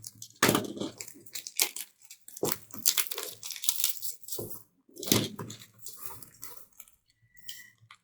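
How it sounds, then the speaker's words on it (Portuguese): A dull utility knife saws through a book package, producing repeated crunching, tearing scrapes in uneven bursts at close range. "Esse meu estilete aqui não tá muito bom não."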